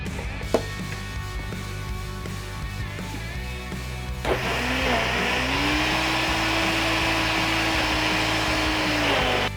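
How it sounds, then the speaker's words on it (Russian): A blender grinds green buckwheat and millet soaked in warm water, a steady loud whirring motor that starts partway in and then runs on without a break, with quieter kitchen handling before it. "Сейчас все это мы измельчаем в блендере."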